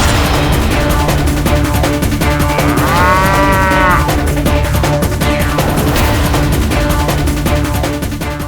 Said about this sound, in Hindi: उसके पास भैंस भी है